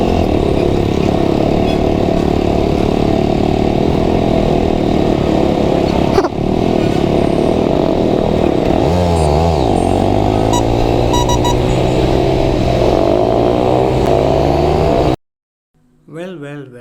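Triumph Scrambler 400X motorcycle cruising on a highway near the last tollgate on the road into Bengaluru, steady engine drone with wind roar and rising, falling rev changes, close and loud until it cuts off near the end.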